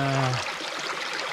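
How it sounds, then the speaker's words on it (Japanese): A snowy mountain stream flows in a steady, close broadband rush of water, with a brief tonal hum fading out during the first half-second, then continuous bubbling flow alone. "綺麗な小川を見つけました。 雪と小川は綺麗だな。"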